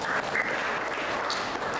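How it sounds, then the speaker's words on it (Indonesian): Brief burst of applause from a class in an accounting lesson, a steady dense patter of clapping that fills the short moment without any talk. "tepuk tangan buat Mbak Ami."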